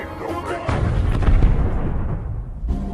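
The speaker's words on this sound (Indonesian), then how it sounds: "tak lama kemudian robot tersebut meledak" A robot explodes in a loud, deep boom that rumbles, with crackling bursts rolling through it before the noise tails off.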